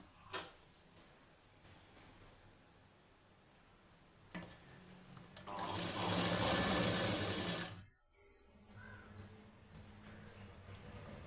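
A sewing machine stitches the high neck of a plain blouse in one sustained loud run of a couple of seconds, preceded and followed by quieter clicks and handling of fabric, with no talk.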